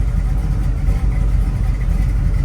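A 1969 Chevrolet Camaro SS350 with a 350 V8 idles steadily at about 1,000 RPM, a deep rumbling burble that holds even and close throughout with no voices.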